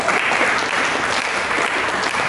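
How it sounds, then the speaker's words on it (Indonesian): Steady, dense applause from a church congregation, loud and continuous throughout with no pauses. "Berikan tepuk tangan bagi Yesus"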